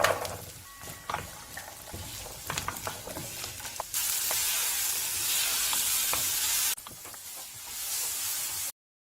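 Mustard, urad dal, green and dried chillies and onion tempering in sesame oil for a Chettinad vegetarian feast: scattered crackles and stirring clicks at first, then a loud, steady hiss of frying that cuts off abruptly.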